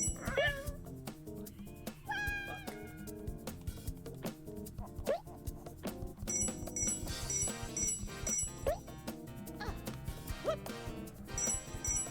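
A cat meows repeatedly and insistently, close and clear, over constant video game music during a play session of Croc: Legend of the Gobbos, with no one talking.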